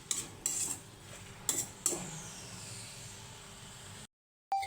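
Ridge gourd chutney mixture with cumin being stirred in a pan, a few sharp metal spoon scrapes and clinks against the pan over a faint sizzle, then a brief silence.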